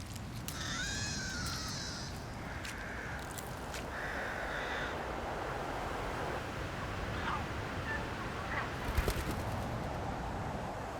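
Crows in a bamboo grove caw loudly and repeatedly in a mobbing chorus against an eagle owl, harsh calls clustered in the first few seconds and fading to sparse cries over an outdoor breeze.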